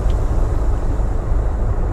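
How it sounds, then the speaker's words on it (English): A truck with a 600 horsepower Caterpillar engine in American Truck Simulator runs with a loud, steady low rumble, constant and close, with no talk over it. "Now the truck's running a cat engine,"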